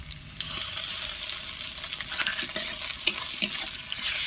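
Green chillies and ginger garlic paste fry with onions in a pan, a continuous bright sizzle with scraping stir strokes throughout, close and fairly loud.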